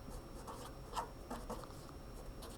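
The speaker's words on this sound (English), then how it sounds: "So I'm going to write album B." Faint scratchy strokes of someone writing on a classroom lesson board, a few soft bursts over steady quiet room hiss, with no voices.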